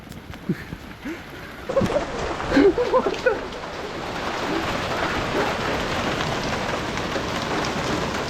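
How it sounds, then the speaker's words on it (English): Heavy rain mixed with hail pouring down outdoors as a steady dense wash of noise, with brief scattered knocks early and a voice speaking briefly over it. "It's pouring. Oh, it's hailing. There's literally ice coming down."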